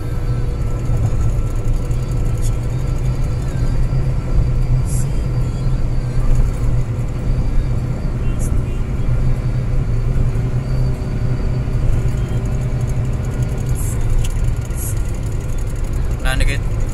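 A bus speeds along the Cipali toll road, its engine and road noise forming a loud, steady low rumble throughout, with a faint muffled voice or two under the drone.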